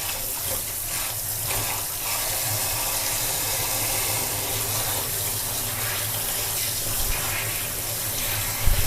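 Running tap water pours steadily into a kitchen sink as vegetables are rinsed, a constant near gushing flow with slight shifts as the produce moves under the stream, and no talking.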